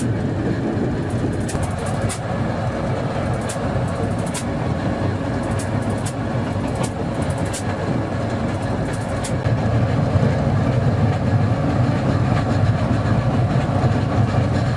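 A V10C narrow-gauge diesel locomotive runs on 600 mm track, its steady engine drone and rumble continuous throughout, with repeated rail clicks and clatter of the wagons, growing slightly louder toward the end.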